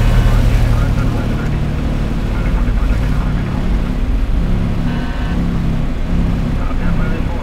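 Douglas DC-9 jet engines, a 1976-built airliner, roaring steadily at takeoff thrust as heard from the cockpit, a loud continuous low rumble with broadband hiss that persists throughout while crew voices call out over it.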